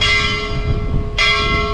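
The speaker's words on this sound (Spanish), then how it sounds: "Es un tubo de esos de oxígeno, un tanque de oxígeno, y le dan con otro tubo." A makeshift church bell, an oxygen tank struck with a metal pipe, rings out in two loud, close clangs, the first tone decaying before a second strike near the end, with no talk.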